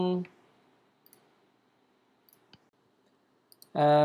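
A computer mouse clicks on a web page, giving a few soft, isolated clicks in a quiet room. Someone speaks briefly before and after them.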